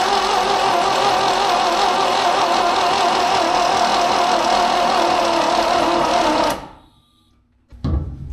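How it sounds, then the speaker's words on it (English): A Quad 4 engine in a Beretta Z26 cranks over with its spark plugs removed, a steady, loud mechanical whir lasting about six seconds before cutting off, then a brief burst of cranking resumes at the end. "Let's just see how it cranks with the plugs out."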